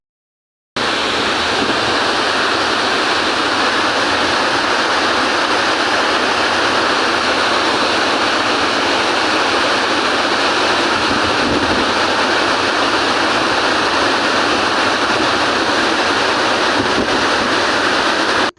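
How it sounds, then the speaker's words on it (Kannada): Water released from the crest gates of Harangi dam rushes into the river, a dense, continuous loud roar lasting throughout with no voices. "ಅಣೆಕಟ್ಟೆಯಿಂದ ನದಿಗೆ ಭಾನುವಾರ ಮಧ್ಯಾಹ್ನ ನೀರು ಬಿಡಲಾಯಿತು"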